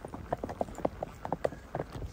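Marwari horse cantering on a long-distance ride, hooves clip-clopping in a quick, irregular rhythm of close, fairly soft beats with no talk over them.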